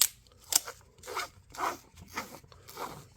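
Epoxy putty package being peeled open, a quick series of close, crisp tearing and crinkling bursts of plastic wrapping, each short and separated by brief pauses, with no talk.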